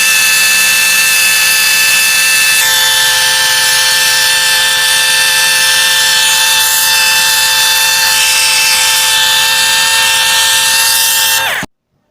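Gas torch pre-heating a rail joint for thermite rail welding, a steady loud hissing roar with a constant whine that runs unbroken and then cuts off abruptly at the end.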